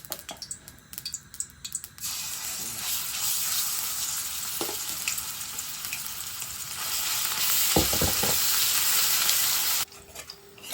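Blended onion paste frying in oil in a pan, a bright, dense sizzle that swells louder midway, with stirring scrapes and a few knocks, ending abruptly.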